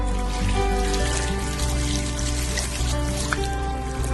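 Water trickling from borehole supply while a white dog's tail is washed in a grooming session, a steady low splashing and dribbling with a constant background hum, no speech.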